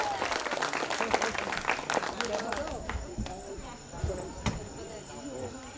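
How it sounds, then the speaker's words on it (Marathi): An audience claps for young children after their dance at a family Bhavani goddess gondhal ceremony. Dense, lively applause is strongest at first and then thins out, while people talk over it. "परत एकदा टाळ्या होऊन जाऊ दे त्यांच्यासाठी"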